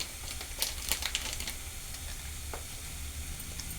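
Whole cloves and cinnamon drop into hot oil for a pool makhana curry and sizzle steadily, with a few sharp crackles and clinks near the start over a constant frying hiss.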